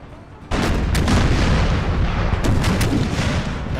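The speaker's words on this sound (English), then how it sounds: "There's the artillery." Artillery fire in a Civil War strategy video game at the Battle of Gettysburg: a loud roaring barrage of booms begins abruptly and rumbles on continuously, with sharper reports cutting through, and no speech.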